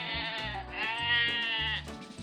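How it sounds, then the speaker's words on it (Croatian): A sheep bleats in a long, wavering, harmonic call, loud and close, over a soft thumping musical backing. "to je ovca"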